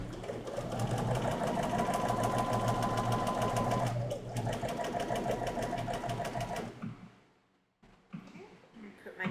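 A sewing machine stitches a curved quilt seam with a steady, close, fast whirring chatter that runs for several seconds, then stops abruptly before brief handling noises.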